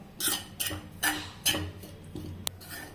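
Grated coconut being roasted and stirred in a pan for Tamil-style coconut rice, a metal spoon scraping and clinking against the pan in an uneven rhythm of soft strokes, close and fairly quiet with no talking.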